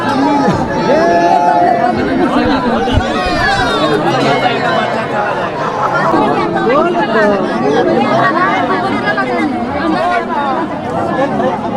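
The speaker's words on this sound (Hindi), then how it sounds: "भीड़ काफ़ी ज़्यादा है, आप देख सकते हैं।" A dense crowd of pilgrims at Basukinath Dham temple in Jharkhand makes a loud, continuous hubbub of overlapping voices and chatter throughout, close and unbroken.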